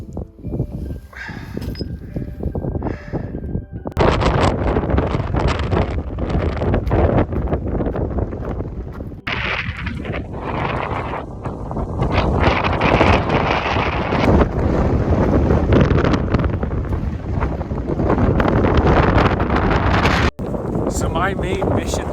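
Strong wind blows across a mountain pass near Virginia Lakes in the Hoover Wilderness, roaring in loud broadband gusts that batter the microphone, with brief quieter gaps and a voice heard at times.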